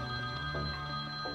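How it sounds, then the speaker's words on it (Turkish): A telephone rings indoors in a Turkish TV drama scene, a steady electronic tone held over a low room hum for the whole moment, with no talking. "Bacın arıyor. O telefona bak da."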